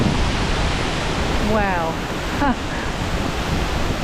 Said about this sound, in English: Look how beautiful that waterfall is, hey?